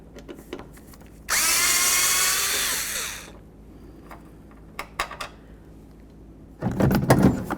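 A power drill with a Torx bit backs a bolt out of the door of a 2008–2012 Jeep Liberty, a close, loud whir of about two seconds, then small clicks and handling, then a second short burst at the end.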